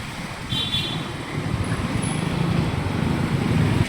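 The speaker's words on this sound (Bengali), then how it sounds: "রাস্তায় জ্যাম থাকার কারণে সবাই বেছে নিচ্ছে বিকল্প রাস্তা" Road traffic jammed on a main road near a political rally, a continuous close rumble of idling and creeping cars, buses and trucks with no talk, holding steady and growing slightly louder toward the end.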